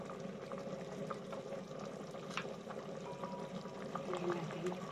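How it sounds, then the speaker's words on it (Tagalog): Mung bean soup boiling in a pot, a soft continuous bubbling and simmer with faint pops, quiet and close, with a few light clinks. "Kumulo-kulo na"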